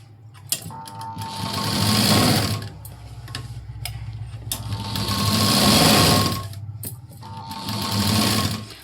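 Sewing machine stitching a sleeve onto the main fabric of a garment, running in three loud, steady whirring bursts separated by short pauses, close up and with no talk.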